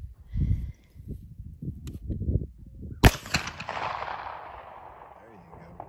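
A single sharp rifle shot cracks out loud and close, its report ringing off into a long fading tail, after several seconds of voices talking.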